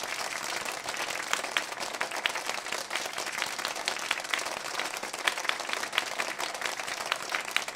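Sustained audience applause, dense steady clapping from a crowd with no pauses, loud and continuous throughout.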